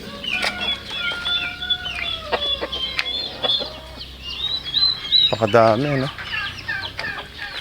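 Farm chickens cluck and squawk close by, with a burst of wing flapping and a brief rooster-like call partway through, while someone speaks briefly over the flock.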